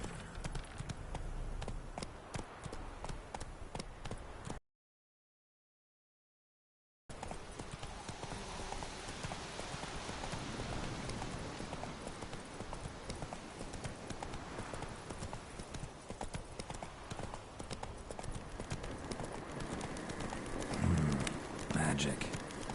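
Roach, the horse in The Witcher, gallops with continuous hoofbeats under game ambience and a voice speaking, broken by a couple of seconds of silence.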